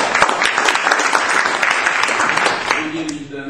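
A conference audience applauds, a loud, dense wash of many hands clapping steadily for several seconds and thinning slightly at the end, with a voice briefly audible beneath it.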